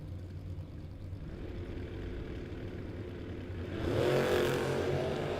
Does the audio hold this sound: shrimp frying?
no